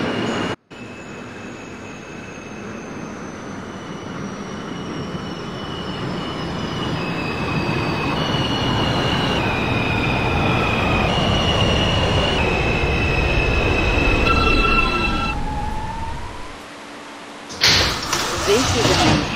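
An R160 subway train in the OpenBVE simulator runs on an R local, its motors whining up through rising tones as it accelerates, wheels rumbling and squealing. The train then slows, with a door-chime and door noise near the end and an announcement voice over it.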